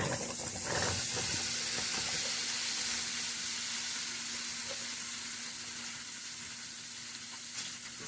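Finely diced apples coated in lemon juice sizzle steadily in a hot pan, a continuous bright hiss of frying that fades slightly over time, with a faint stir or clink near the end.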